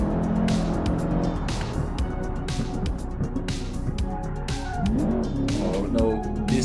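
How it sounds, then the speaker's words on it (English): In the BeamNG driving game, a roadster's engine revs under traction control, its note repeatedly cutting and stuttering between bursts of power, loud and close with faint tire noise. "the traction control is definitely activating. You can hear the engine just cutting all the time."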